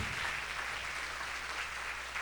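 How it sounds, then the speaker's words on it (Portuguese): A church congregation applauds steadily at a worship service, a dense wash of clapping that holds at an even level throughout without any voices on top. "Vamos aplaudir ao Senhor Jesus."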